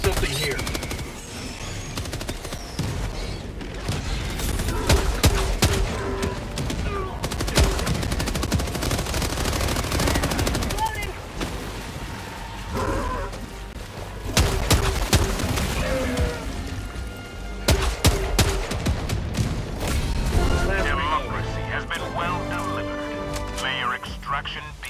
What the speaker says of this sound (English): This is an interesting submachine gun.